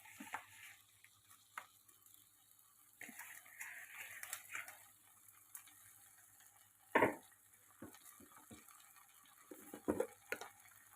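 Gongura leaves dropped into hot oil in a kadai give a quiet, sparse sizzle punctuated by scattered clinks and a couple of sharper utensil knocks against the pan.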